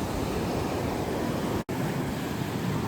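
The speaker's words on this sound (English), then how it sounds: "that's shallow sand, right where those waves are breaking right inside there" Ocean waves break over shallow sand at Pismo Beach, a steady, dense surf roar filling the whole moment with a single brief dropout partway through.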